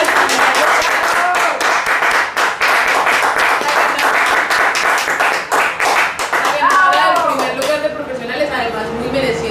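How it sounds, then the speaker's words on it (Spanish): Loud, close audience applause for a storytelling award winner, sharp individual claps merging into a dense ovation that thins out near the end as a voice and chatter rise through it. "Por favor, un aplauso a la ganadora."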